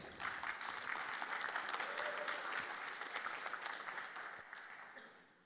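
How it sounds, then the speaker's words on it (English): An audience applauds to welcome a presenter onto the stage at an enterprise tech conference, steady dense clapping from a large crowd that holds for several seconds and then thins out toward the end. "Let's give him a warm applause"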